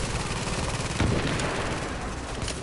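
Flame-round gunfire in the video game The Division: dense, continuous automatic shots with a louder burst near the middle, loud and sustained with no talk over it.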